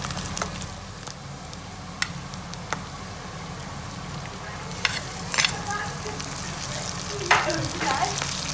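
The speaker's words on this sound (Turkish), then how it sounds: "Şimdi bunları biraz daha içine e, ee, kokoreçle karışması için güzelce karıştırıyoruz" Homemade kokoreç with chopped peppers and freshly added tomatoes is stirred in a frying pan, a steady close sizzle broken by scraping clicks of the spoon against the pan.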